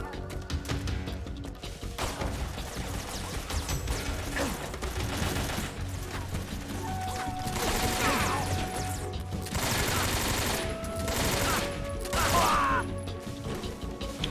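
Continuous gunfire from an enemy on a rooftop in Metal Gear Solid 3, with rapid bursts, mechanical clatter and crashing impacts layered together, loud and dense across the whole stretch.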